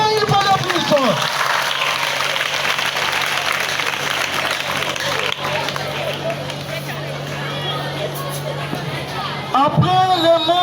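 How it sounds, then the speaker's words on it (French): A large crowd applauds General Kachamba and the President of the Republic at an official ceremony, a dense, sustained clapping that lasts several seconds, with a voice speaking just before it begins and again as it fades. "Acclamons très fort!"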